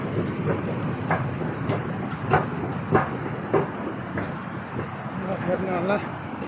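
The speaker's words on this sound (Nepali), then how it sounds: "ट्रेन चाहिँ यताबाट आउँदैछ।" A train runs at a station in Malaysia with a continuous rolling rumble and a series of sharp rhythmic clacks of wheels over rail joints, heard at moderate distance while a person talks.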